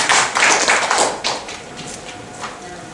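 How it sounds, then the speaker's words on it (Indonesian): Audience applause for a woman named Lisa at an indoor health talk, a burst of dense clapping that fades to scattered claps within a few seconds. "tepuk tangan sekali lagi buat Bu Lisa"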